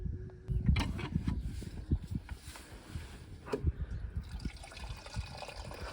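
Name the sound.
water running from a tap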